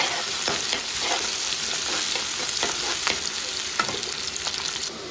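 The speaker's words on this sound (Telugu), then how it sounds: "ఇప్పుడు ఆయిల్ వేడెక్కిందండి ఆనియన్ చేశాక అలాగే పచ్చిమిర్చి ఇవి కొంచెం ఫ్రై చేసుకున్నాము" Chopped onions and green chillies fry in hot oil in a pan, a continuous close sizzle broken by scraping stirs of a spoon at irregular intervals.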